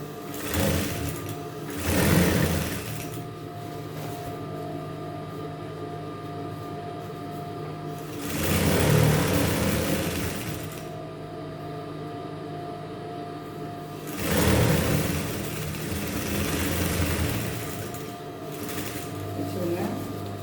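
A sewing machine stitches folded trouser leg hems in three loud bursts of rapid, even whirring, with quieter pauses between them. A person talks during the stitching.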